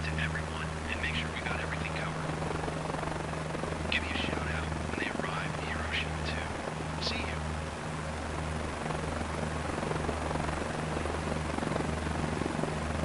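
Helicopter in Microsoft Flight Simulator 2024 with a steady, droning rotor and engine hum that holds throughout, while a voice talks softly over it.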